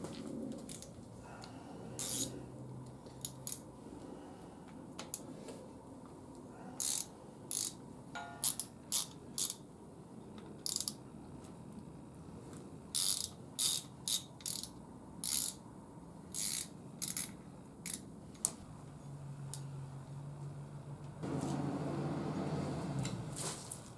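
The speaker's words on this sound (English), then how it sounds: "Next step, getting this cam retainer plate out of there. Let's get those T40s on there." A ratchet backs out T40 Torx screws from the cam retainer plate of a 5.3 LS engine, giving repeated short bursts of sharp clicking spread across a quiet workshop, with a soft low hum near the end.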